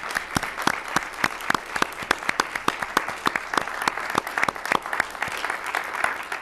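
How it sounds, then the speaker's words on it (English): A room at a 2019 racial-justice candidate and mayoral forum in Norman breaks into steady applause, many hands clapping close and loud in an even, sustained patter with no voices over it. "we should give her a round of applause."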